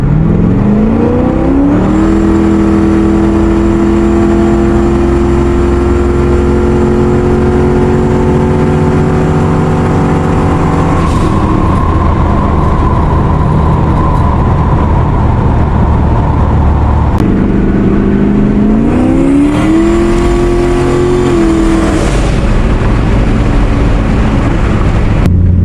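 A turbocharged Lincoln Town Car accelerates hard from 60 to 120 mph twice in a row, the engine note rising loud and continuous through each pull with shift breaks, turbo whine and wind roar in between.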